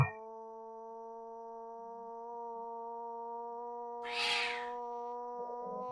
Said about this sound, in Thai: เสียงมันแมวตบกันแถวบ้านกูเลยอ่ะ